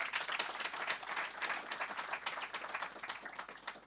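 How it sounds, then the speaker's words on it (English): Studio audience applauding a guest on a live South African politics show, a dense, even burst of clapping from a small crowd that holds steady for several seconds, with no talking over it. "Round of applause for him."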